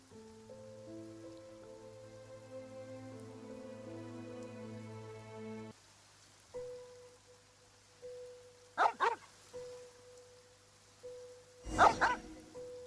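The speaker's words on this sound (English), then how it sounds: "Come on, Hafton, why are you barking at the cemetery?" In Genshin Impact a dog barks at a cemetery: a few short barks stand out late in the clip over steady rain and a sustained musical drone, moderately close and without speech.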